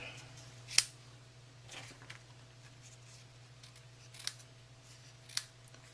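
Scissors cutting gray satin ribbon, giving a few sharp, isolated snips spaced seconds apart, close but quiet, over a low steady background hum.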